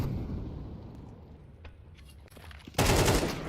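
Rapid automatic gunfire in a competitive shooter video game match, a dense rattling burst early that thins out, then a loud sudden volley near the end.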